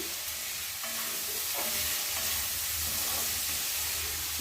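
Onions sautéing in a pan for a goat liver roast, a steady close sizzle and hiss with occasional stirring scrapes, continuous throughout with no talk.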